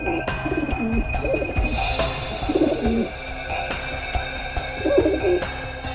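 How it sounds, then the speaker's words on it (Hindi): Pigeons cooing indoors during a crime drama scene. Their low, throaty coos rise and fall, close and fairly loud, over a busy room hum and no clear speech. "मेरे कबूतर है अंदर में।"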